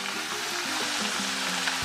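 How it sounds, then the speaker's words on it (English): Oil sizzles and crackles steadily as homemade chips fry, a dense bright hiss with no voices. "Got the oil there frying,"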